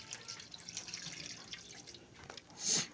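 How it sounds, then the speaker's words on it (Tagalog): Water poured into a cooking pot of shrimp sauté for Filipino dinengdeng with moringa pods, heard as a soft, steady trickle and splash that swells to a brief louder gush near the end, with no voices. "Tapos lagyan natin ng tubig."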